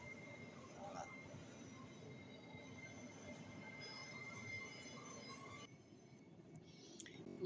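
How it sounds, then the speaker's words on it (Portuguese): A train rolls past in the distance on a rainy, windy day, heard faintly through a closed window as a steady rumbling wash with light wheel squeal, quieting toward the end. "Olha o trem passando ali, ó."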